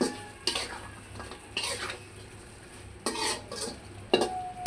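Soybeans and spices being stirred in a cooking pan for a vegetarian patal (pointed gourd) dish. A spoon scrapes and clinks against the pan in several separate strokes, with soft sizzling underneath and no speech.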